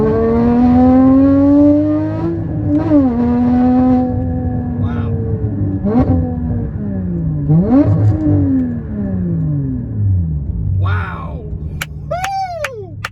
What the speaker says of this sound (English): What I expect the car to do when I give it throttle, it does.